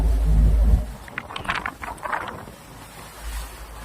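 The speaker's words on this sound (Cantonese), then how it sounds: "6級風都有。 唉，冇計啊，大風大浪。" Strong wind of about force six buffets a fishing boat in rough seas off Sabah, with low rumbling gusts and splashing waves. A louder burst comes at the start, then choppy bursts of water noise follow, with no talk.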